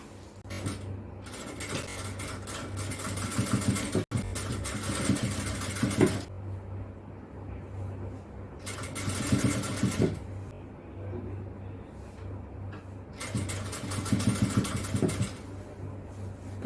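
Sewing machine stitching a small frill onto puff shorts, running in three loud close bursts of rapid mechanical whirring separated by quieter pauses.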